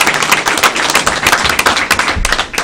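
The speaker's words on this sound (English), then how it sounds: "A round of applause for Mr." Dense applause from a meeting audience, many hands clapping steadily and close for the whole stretch, with no talk over it.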